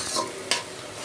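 Vegetables frying in a pan give a soft, close sizzle broken by two quick stirring scrapes of a spatula, fairly quiet and without talk.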